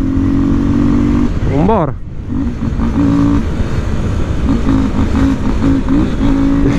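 Yamaha Lander 250 motorcycle engine revving up in a rising sweep, then dropping and continuing with a steady running drone, close and loud, with a voice speaking briefly over it.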